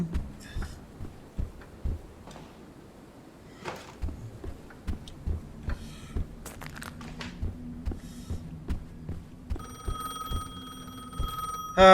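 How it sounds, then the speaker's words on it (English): A telephone rings in the horror video game Lunacy: Saint Rhodes, a steady electronic ring entering near the end after a stretch of sparse thumps, clicks and footstep-like knocks in a quiet room. "Classic horror trope. Phone starts ringing randomly."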